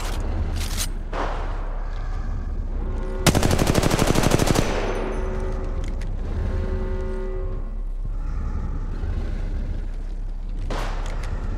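Automatic weapon fire in Apex Legends Mobile, one loud rapid burst of close shots lasting about a second, with fainter scattered shots and game ambience before and after.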